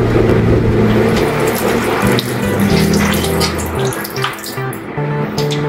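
Vinegar pours into a pot of pork lechon paksiw, a continuous loud liquid splash and gurgle over a steady low hum of background music.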